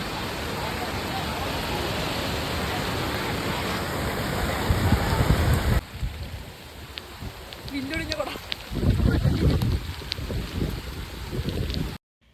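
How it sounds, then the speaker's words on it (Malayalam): Steady hissing rain at Chavakkad beach, loud and continuous, easing partway through, then rising again with rustling and the patter of a broken umbrella nearby. "മഴയെല്ലാം നനഞ്ഞ് കുടയെല്ലാം ഒടിഞ്ഞ് ഒരു വഴിയായി"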